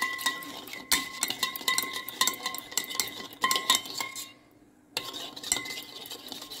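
Curd is beaten in a vessel for challa charu, producing quick, rhythmic clinks and scrapes of a utensil against the pot. A brief pause falls near the end before the beating resumes.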